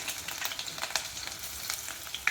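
Chopped garlic and a small piece of ginger with fenugreek frying in hot oil for a fish coconut-milk curry, a steady crackling sizzle with sharp spits and pops, close and alone.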